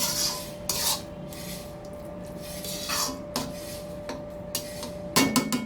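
A spoon stirs chana daal with kasuri methi in a cooking pot, giving intermittent scraping and rubbing strokes with occasional sharper metallic clinks, fairly close and quiet with no voices.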